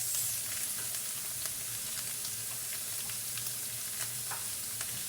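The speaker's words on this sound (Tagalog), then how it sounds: "Gisa-gisa lang ng konti." Ingredients for kiampong, a rice dish, sauté in a pan with a steady close sizzle and scattered crackles, plus faint stirring sounds underneath.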